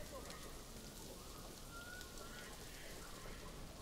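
Rain falling in a zoo-building video game, a steady, soft hiss of drops with faint scattered chirps and tones, at low volume throughout.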